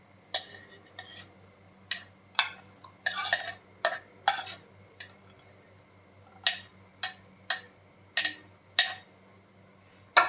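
Vegetables stirred into an instant noodle salad with sausage, heard as a steady series of close, crisp clinks and scrapes of a utensil against a dish, spaced irregularly about a second apart.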